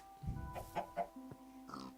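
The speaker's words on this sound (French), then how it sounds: "Donc là, vous voyez un cochon. Enfin, 3 cochons et une poule." Minecraft pigs and a chicken heard close by: a few short grunting oinks in quick succession, then a clucking call near the end, game-style and fairly quiet, with no talking.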